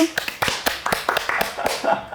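A few people clap during an earbud review session, a string of crisp, uneven claps that are close and moderately loud, with some speech mixed in.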